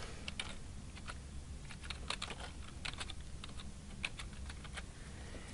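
Rapid, faint clicking of keys on a computer keyboard, an irregular flurry of light taps over a steady background hiss, with no voices.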